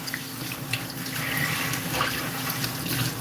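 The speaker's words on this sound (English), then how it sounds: "Wash it." Tap water runs steadily over cabbage being washed in a kitchen sink. The splashing is soft and continuous, with faint bubbling and no talking.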